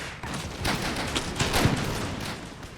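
Riflemen fire ragged volleys in the video game Imperial Destroyer, with several crackling bursts of gunfire overlapping in a fast, dense fusillade over a few seconds, with no talk.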